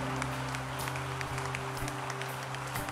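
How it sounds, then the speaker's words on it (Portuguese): A church congregation applauds steadily and fairly faintly for a few seconds, a dense wash of clapping with a low hum underneath. "Você pode aplaudir ao Senhor em nome de Jesus."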